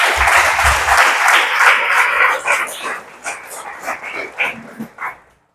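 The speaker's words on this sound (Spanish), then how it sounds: "Denle un aplauso al Señor" A church congregation applauds with loud, thick clapping that thins into scattered claps and fades out, with a dog barking near the start.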